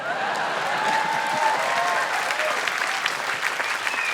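A comedy club audience claps steadily at a stand-up show, a dense even wash of applause that holds at moderate loudness for the whole stretch.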